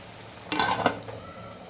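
A metal lid clatters briefly onto a pot of mixed vegetables cooking on the stove, a short, close clink and scrape that fades into quiet kitchen background.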